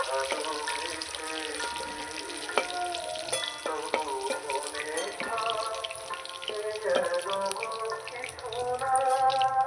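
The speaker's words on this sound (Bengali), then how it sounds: "মাংসগুলো আমার ভাজা হয়ে গেছে, তুলে নেব।" Meat sizzles steadily in a pan, a continuous close frying crackle with occasional sharper pops and stirring scrapes, while loud festival music plays through the background.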